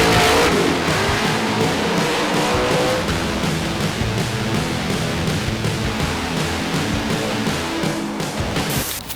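The Son-uva Digger Monster Jam monster truck roars and revs in a backyard, a loud, close, raw engine blast that surges at the start, then churns on with rough pulsing.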